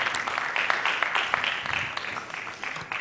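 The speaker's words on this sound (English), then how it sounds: "A round of applause for her, please" An audience at a student mentorship session breaks into lively, continuous clapping to welcome a speaker, thick and fairly close throughout.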